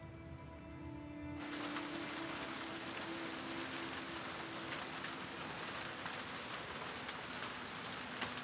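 Steady rain in the video game The Last of Us Part II starts abruptly after a quiet hum and keeps pouring as an even, dense hiss, with no voices.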